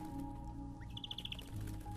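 Birds in the video game GRIS give a quick run of bright, evenly spaced chirps over a steady ambient music bed.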